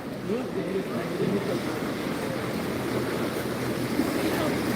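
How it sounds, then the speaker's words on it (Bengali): A speedboat passes on the water in Venice, heard as a steady, fairly loud wash of engine and water noise mixed with wind buffeting the microphone, with no clear distinct pass-by peak. "এই যে স্পিড বোট যাচ্ছে"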